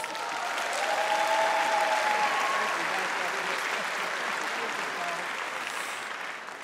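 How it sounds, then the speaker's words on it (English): Audience applause fills a graduation ceremony for adult high school and GED graduates, a dense, steady wash of many hands clapping that swells and then slowly tapers. "let's give him a round of applause"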